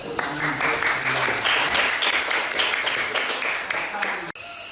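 Classroom applause from students, a dense steady patter of many hands clapping for several seconds, fairly loud and close, ending abruptly near the end.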